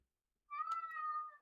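A single drawn-out cat meow, clear and fairly close, rising then holding steady for about a second in an otherwise quiet room.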